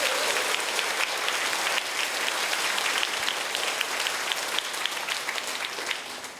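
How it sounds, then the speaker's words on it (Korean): A congregation applauds the singers after a song, broad sustained clapping from a seated audience that carries evenly throughout and tapers slightly at the end. "박수를 부탁합니다."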